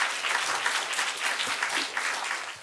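An audience applauds a professor at the close of a lecture on communication, a dense, even patter of many hands clapping that holds steady for a few seconds and then starts to taper off.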